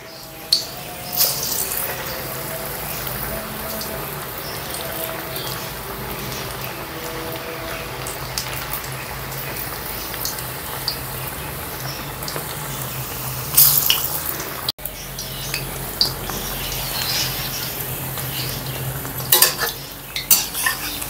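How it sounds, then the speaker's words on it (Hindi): Flat pakoras frying in hot oil, a continuous close sizzle heard alongside stirring and scraping of a metal utensil, with a few louder clatters. "ऑयल गर्म करने के लिए मैंने रख दिया था, पकोड़े डाल दें"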